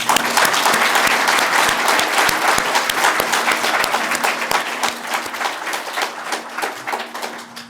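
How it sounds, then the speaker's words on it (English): Sustained audience applause at a spiritual gathering, loud and dense at first, then thinning slightly toward the end with a few individual claps standing out. "I would like to acknowledge their seva by applause."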